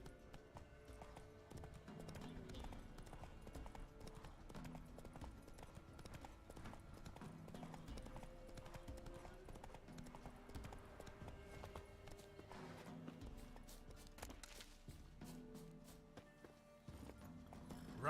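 Galloping hooves of Roach, the horse in The Witcher 3, clip-clop steadily and close for the whole stretch, layered over game music with an occasional whinny.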